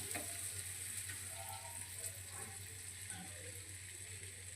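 Pizza toppings roasting in a pan, a steady hissing sizzle with light stirring, faint and continuous, with no talking.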